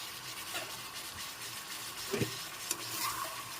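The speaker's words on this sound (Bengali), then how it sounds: "এখন একটু ভালো করে নেড়েচেড়ে মিশিয়ে নেব পনেরো মিনিট মশলাটাকে ভালো করে কষিয়ে নিতে হবে" Spice masala for Bengali mutton kosha being stirred and fried in a pan, with a steady soft sizzle and a few scraping stirs of the spatula, heard up close with no talk.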